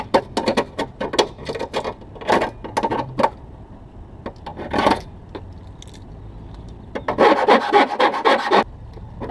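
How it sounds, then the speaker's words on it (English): A file scrapes the cut edge of a metal bracket for a York onboard air setup on a Jeep TJ, in irregular bursts of short strokes with pauses, then a faster flurry at the end. "Cut it out. Don't be that guy, deburr it."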